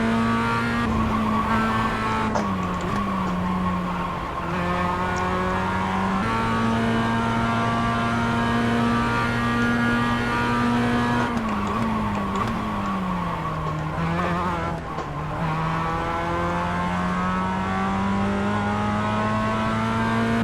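A race car runs a qualifying lap in the iRacing simulator, its engine droning steadily at high revs with pitch dips on downshifts into corners and faint tire scrub, loud and constant for the whole lap with no talking.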